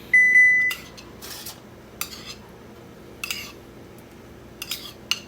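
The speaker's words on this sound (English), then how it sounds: "Ooh, that's our oven, it's done. Preheating." A kitchen oven beeps at the start to signal that preheating is finished, a steady electronic tone lasting under a second, followed by scattered clinks of dishes and utensils while buffalo chicken sliders are assembled.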